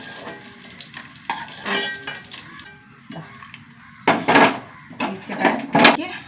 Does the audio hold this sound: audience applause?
no